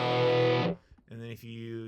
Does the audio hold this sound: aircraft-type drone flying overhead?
no